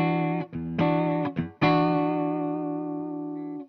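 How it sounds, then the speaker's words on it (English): Bright, twangy clean electric guitar, a PRS 25th Anniversary Wildwood 24 on its inside-coils pickup setting: a few quick strummed chords, then one chord left ringing and slowly fading. "Inside coils, that real spanky kind of sound."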